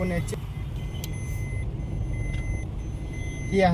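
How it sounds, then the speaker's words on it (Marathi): Heavy road traffic in Pune, with a steady dense engine rumble and a repeating high reversing beep from a vehicle nearby, plus a few brief horn or beep tones; a voice briefly speaks near the end. "पुण्याची ट्रॅफिक. खूप ट्रॅफिक लागलेली आहे."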